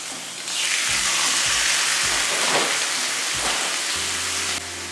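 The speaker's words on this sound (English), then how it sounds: "You want to continually hear that lovely sizzling noise." Pork sizzles loudly in a hot griddle pan, a steady crackling hiss that swells after a moment and fades near the end, with a faint hum underneath.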